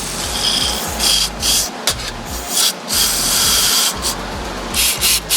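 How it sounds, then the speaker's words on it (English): Carburetor cleaner is sprayed through the carb of a 1986 Polaris 250 snowmobile in several short, hissing bursts with brief pauses between them. The sound is close and fairly loud, with no talking. "Let's spray it."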